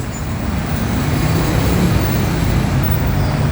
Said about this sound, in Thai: นี่นี่สถานีรถไฟฟ้าเซนหลุยครับ